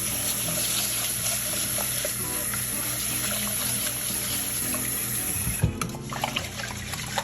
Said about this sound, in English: let's rinse the 2 cups of basmati rice